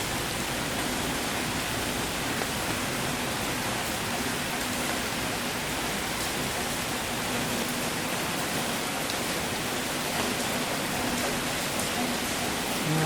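Rain falling in the woods during a stormy solo camping stay, a dense, even hiss of drops on foliage and ground that continues unbroken at moderate loudness.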